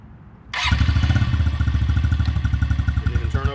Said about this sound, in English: This hasn't been started, so we'll go through a cold start on it and show that it doesn't have any problems idling or starting up